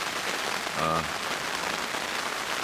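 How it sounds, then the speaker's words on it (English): Heavy rain pounds a fishing brolly shelter at a carp lake, a steady, dense hiss that stays loud and even throughout, with one brief tonal sound partway through. "You can hear it. It's pouring down"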